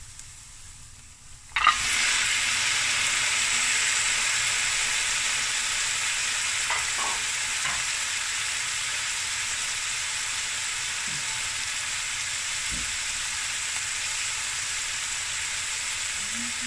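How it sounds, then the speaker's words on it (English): Lamb pieces for a potato and lamb bredie hit a hot pot and burst into a loud, steady sizzle that holds evenly throughout, with a few faint clinks of stirring. "I'm going to add the meat."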